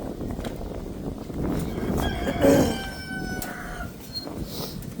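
Chickens in a farm coop during winter chores, with crowing and clucking calls rising over steady background farmyard noise.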